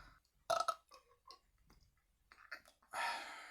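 Two burps, a loud one early and a long rumbling one near the end, with quieter mouth noises between.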